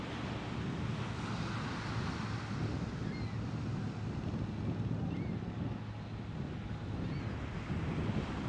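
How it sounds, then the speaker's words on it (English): Wind gusting at Coney Island beach, a continuous roaring rush buffeting the microphone with faint surf beneath, steady and close for the whole stretch. "Ooh, yeah, that wind there,"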